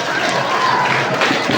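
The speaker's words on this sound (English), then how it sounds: "Please give a big applause for all the students" A crowd at a college freshers day gives the students a brief burst of applause. The clapping is loud, dense and steady and lasts under two seconds.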